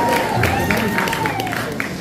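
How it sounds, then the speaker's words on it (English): Clapping and cheering from guests at a traditional engagement ceremony, a dense, steady patter of hands that runs the whole short stretch with voices mixed in. "but we'll clap ourselves."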